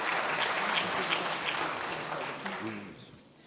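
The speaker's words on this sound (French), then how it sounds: "On peut les applaudir à nouveau." An audience at a conference gives a round of applause that stays steady and full before fading out near the end.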